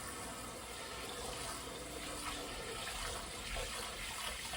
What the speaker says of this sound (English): And then we're going to run this water cold.